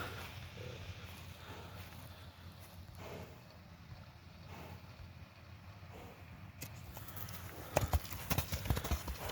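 Hooves of a draft horse mare clip-clop steadily at a walking pace on a hard surface, fairly quiet, with a few louder clattering steps toward the end.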